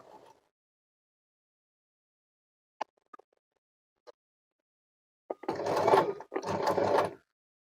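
Usha Janome Allure DLX sewing machine stitching an outline: a few isolated faint clicks, then a short loud burst of motorized stitching in two quick runs near the end.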